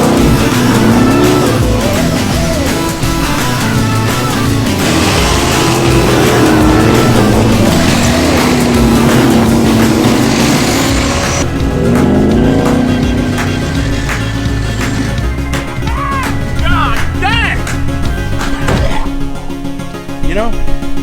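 A supercharged 1968 Dodge Charger does donuts, its engine revving loudly with tire squeal throughout, while people talk over the noise.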